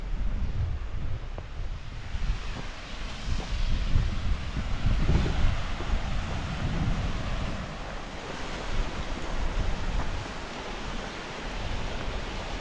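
Continuous rushing roar of a waterfall on a Lake District fellside near Pike of Stickle, broadband and steady with wind buffeting the microphone, no voices.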